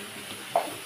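Food fries in a pan while pasta is cooked, giving a faint, steady sizzle with one brief louder crackle near the end.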